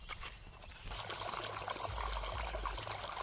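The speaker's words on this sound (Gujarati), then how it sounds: "ફાઇનલી પાણી આવી ગયું છે ખેતરમાં." Irrigation water pumped by a generator pours and trickles into a wheat field, a close, continuous splashing flow with a low rumble beneath it.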